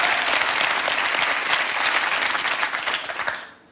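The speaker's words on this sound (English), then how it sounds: "That deserves a round of applause" A television quiz show studio audience breaks into loud, dense applause that holds steady before trailing off abruptly at the end.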